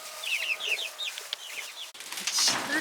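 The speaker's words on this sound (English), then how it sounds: "now they're all getting tucked into this corner. These little chickens." Baby chickens in a hot, windy greenhouse give quick, high peeping calls in rapid bursts, close by, with a rustling gust and a louder flurry of cheeps near the end.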